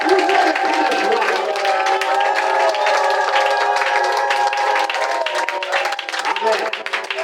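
A church congregation claps and cheers in praise, a dense, steady wall of applause with voices mixed in that holds at full strength throughout, with music-like tones running underneath.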